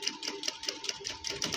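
A sewing machine stitches fabric for a gents' suit in a quick, steady run of rapid mechanical ticks, close and clear with no voices.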